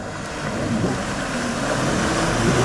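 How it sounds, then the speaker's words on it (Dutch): A continuous jet ski engine roar on water, fairly loud and steady, slowly building as it runs past. "Oh, gaat John op de waterscooter"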